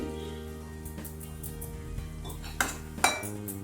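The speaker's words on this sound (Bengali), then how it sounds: "এটাকে একটু নেড়ে নিচ্ছি সর্ষে পোস্ত আর চিনি দিয়ে একটু ভালো করে নেড়ে দিলাম" Greens being stirred in a pan with mustard-poppy paste and sugar, mostly quiet scraping over a low steady hum, then two sharper clinks of a utensil against the pan near the end, close by.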